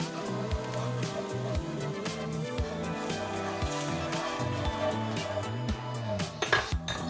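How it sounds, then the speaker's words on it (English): A whisk clinks and scrapes rapidly against a pan while half and half is stirred into a lemon garlic cream sauce for crab stuffed salmon, a busy metallic rattle over a background hum with a few louder knocks. "We'll just add a little bit, whisk it in."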